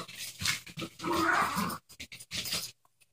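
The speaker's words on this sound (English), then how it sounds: "Dogs are excited. It's playtime." Two excited dogs play-growl and grunt indoors at close range, with rumbling growls and scuffling bursts that break off into short yips before falling quiet.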